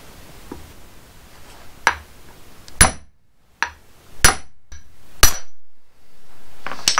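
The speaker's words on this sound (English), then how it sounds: "So we're going to tap it in with a hammer, and then I have this piece of aluminum." Hammer taps drive a hub seal into a Kaiser Willys CJ2A hub through a piece of aluminum: about seven sharp metallic clinks at irregular intervals, close and fairly loud over light background noise.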